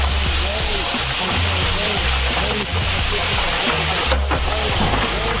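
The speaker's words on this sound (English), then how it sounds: "Add more water." Water poured into simmering Flint-style Coney sauce on the stove, a steady broadband rushing pour that runs the whole time with a faint voice underneath.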